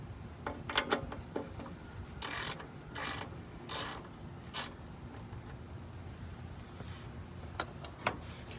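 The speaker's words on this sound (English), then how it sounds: "the particular socket that fits my drain plug is the 13mm socket. So let's go ahead and remove the drain plug" A ratchet fitted with a 13mm socket clicks in several short, crisp bursts while loosening the oil drain plug on a 1988 Chevy Blazer 5.7L, heard close up against a quiet garage background with no talking.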